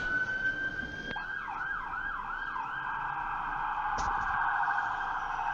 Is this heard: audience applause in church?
no